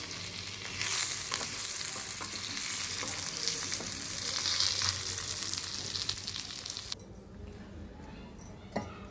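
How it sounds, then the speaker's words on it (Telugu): Lentils fry dry in a pan for pickle, a dense crackling sizzle with stirring scrapes that runs steadily and close, then cuts to a quieter background near the end with a few small clinks. "ఇక పప్పులన్నీ వేగినాయి చూడండి."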